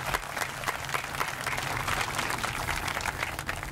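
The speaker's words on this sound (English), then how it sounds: "a nice round and joyous round of applause" A roomful of people applauds continuously at a Hall of Fame induction ceremony, a dense patter of many hands at moderate volume that holds steady throughout.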